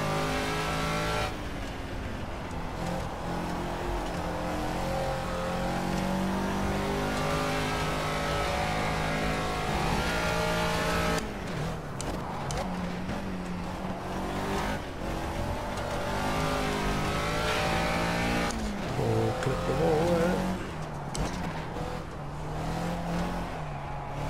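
Caterham Seven rear-wheel-drive race car lapping Monaco in Project CARS, its engine revving and shifting continuously at close range with brief dips under braking, loud and steady throughout with no talk.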